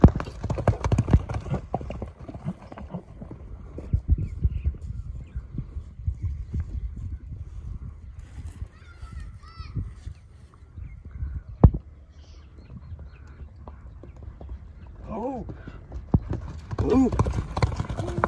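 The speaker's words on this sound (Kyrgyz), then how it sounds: "Экинчи атты алып чыгабыз." Hooves clip-clop steadily as a strong, well-built buck-pulling (ulak) horse offered for sale is led out on foot. People talk over the rhythmic steps, with a brief sharp knock midway.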